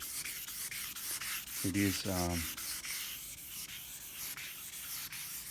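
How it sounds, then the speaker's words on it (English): Sandpaper lightly scuffing the paint on a 1989 Nissan Patrol, heard as soft, close rubbing strokes, with a short voiced sound in the middle and faint background noise. "I'm just going to use the sandpaper and just lightly just scuff it up"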